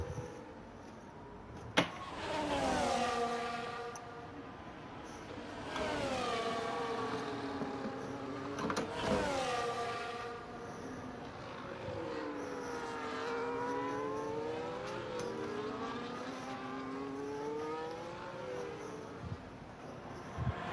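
Race cars lapping a circuit in a sim racing game, with engines rising and falling in pitch as they accelerate and shift, several cars passing in overlapping waves at steady moderate loudness.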